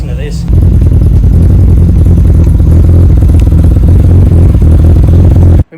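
A Nissan R31 with a cammed RB30 and a 3582 turbo runs on a dyno, its engine droning loud and steady after a short quieter start, held at moderate revs before cutting off abruptly.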